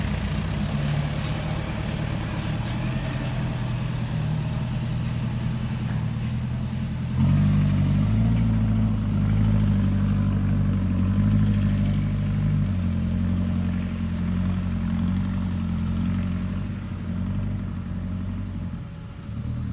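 An Isuzu Robocop truck with a 210 hp engine idles close by. Its deep, steady diesel rumble shifts to a slightly heavier tone partway through and carries on evenly.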